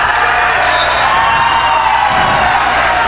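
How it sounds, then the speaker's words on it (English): Loud, dense crowd cheering and whooping fills a college basketball arena during a game between TSU and JMU, with the band joining in from the sideline; the roar stays steady throughout with no pauses. "we got the band cheering on the sideline"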